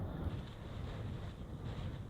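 Strong storm wind during Storm Gareth roars steadily outside a van, buffeting and rumbling in uneven surges and rocking the vehicle, as if pushing against an enclosed space.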